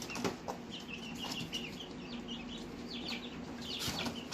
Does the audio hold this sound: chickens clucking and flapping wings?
yes